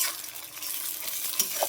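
Onion and garlic fry in oil in a pan, a steady close hiss of sizzling with faint stirring scrapes and no voices.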